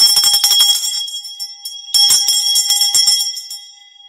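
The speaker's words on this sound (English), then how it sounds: "The bell comes from It's a Wonderful Life with Jimmy Stewart" A bright bell from the film It's a Wonderful Life rings loudly in two shimmering bursts of rapid strikes, each trailing off into a fading ring.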